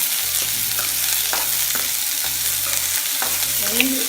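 Onions sautéing in a pan for ulli pachadi, a loud, close, continuous sizzle with a spatula scraping and stirring in quick repeated strokes.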